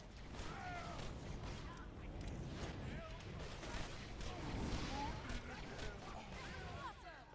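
Pistol shots in a video game ring out repeatedly against a busy game soundscape, with clanking mechanical noises and someone talking over the action.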